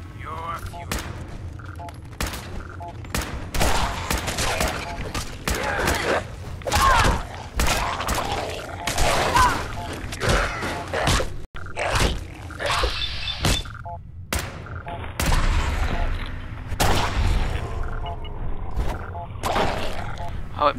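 Repeated gunfire in Fallout 4 on PC, sharp loud shots and bursts scattered through a firefight, with a voice talking between them.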